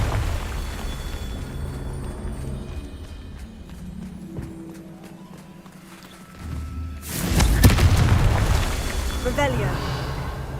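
A Confringo blasting spell explodes in Hogwarts Legacy, a loud burst erupting about two-thirds through and trailing into crackling debris, after a stretch of low rumbling game ambience and music.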